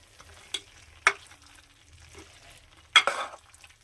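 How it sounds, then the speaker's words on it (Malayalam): Coconut pieces tempered in hot oil over a beef curry, giving a few sharp sizzling bursts with quieter frying hiss between them. "ഇനി നമുക്ക് ഇതിലേക്ക് ഒരു ശകലം തേങ്ങാക്കൊത്തും കൂടെ താളിച്ചിട്ട്"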